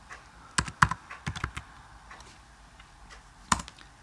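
Keys clatter on a computer keyboard during a programming session, a quick close burst of separate clicks followed by a pause and one final sharp keystroke.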